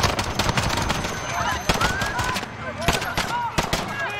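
Gunfire in the video game Call of Duty Modern Warfare, Piccadilly level: loud repeated sharp shots and bursts, with whizzing effects over a busy game soundscape.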